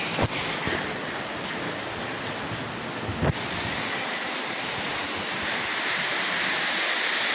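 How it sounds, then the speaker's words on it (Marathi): Heavy rain pours down in a steady, dense hiss, with a couple of sharp clicks early on and no talking. "दणकून पाऊस पडतोय"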